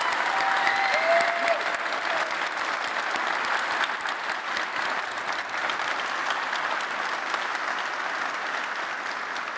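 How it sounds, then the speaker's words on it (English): A keynote crowd at GitHub Satellite 2019 breaks into applause, a dense, sustained clapping that stays even and moderately loud for nearly ten seconds, with a brief whoop near the start. "I kind of want to applaud right now"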